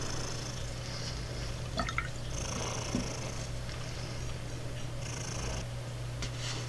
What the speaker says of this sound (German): Falls ich schnurre, ich habe eine Katze auf der Schulter.